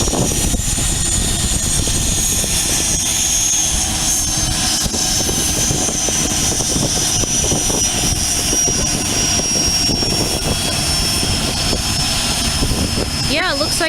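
At Aurora Municipal Airport an aircraft engine drones loudly and steadily throughout, a dense constant roar with a high whine on top, heard from the ground nearby.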